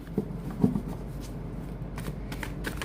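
Tarot cards handled and shuffled by hand, a couple of soft slaps and riffles followed by light papery rustling, close and fairly quiet with no voices.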